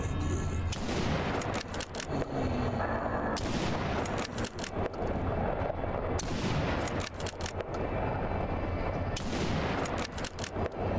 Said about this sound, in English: I love this shotgun so much.